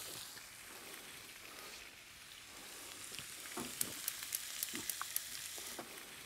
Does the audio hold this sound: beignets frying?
yes